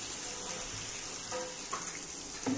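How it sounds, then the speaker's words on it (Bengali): Water poured into a pan of chicken kosha curry with potatoes, a steady hissing splash and soft sizzle running the whole time, with a few brief clinks near the end. "এবার আমি জল দিয়ে দেবো।"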